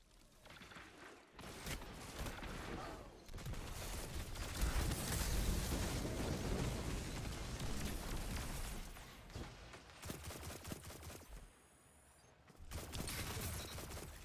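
Rapid sustained gunfire in a Destiny 2 firefight, dense bursts and booms running loud for most of the stretch, dipping briefly near the end before another burst.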